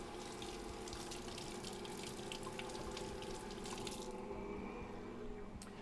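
Water runs from a kitchen tap in a steady stream while dough is being made, a continuous close rush and splash into the sink that eases slightly near the end, with no talking.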